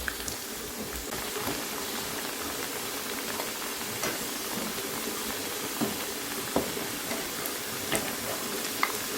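Pieces frying in oil in a pan for a chicken-less chicken curry, a steady close sizzle with occasional soft clicks as they are flipped over, no talking.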